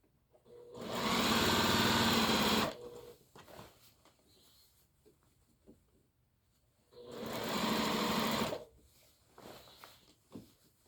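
A sewing machine stitching a rolled hem on an apron runs in two loud bursts of fast, buzzing stitching, each a couple of seconds long, separated by quiet pauses with small handling clicks.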